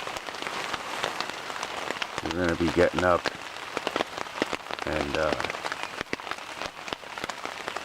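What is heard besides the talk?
rain falling on a campsite tent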